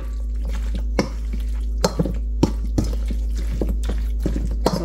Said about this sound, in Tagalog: halo muna natin siya para ma-mix together talaga